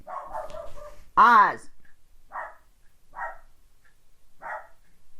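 A dog gives one loud close bark, with a short voice heard just before, followed by several faint short yips spaced about a second apart.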